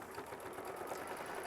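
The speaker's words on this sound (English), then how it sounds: "We're going to hit start and we're going to sew down machine stitch step 20" A sewing machine runs a tack-down stitch, a steady, close, continuous mechanical hum with a rapid stitching rhythm throughout, with no voices.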